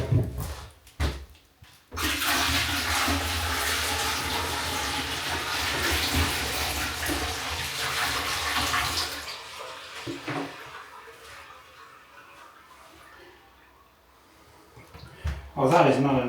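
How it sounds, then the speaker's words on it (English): Water gushes and splashes steadily for several seconds as it is poured down a drain, then tapers off; a brief voice and clatter bookend it. "I'm just going to flush a few buckets of water down there"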